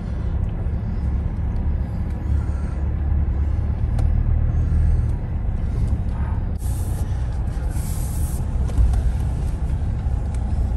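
A truck's low engine rumble drones steadily, with a brief hissing burst partway through and rattling noises as it drives.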